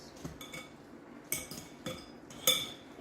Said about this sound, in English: so now I'm mashing it, because I never did mash the bananas. And while I mash it, I stir it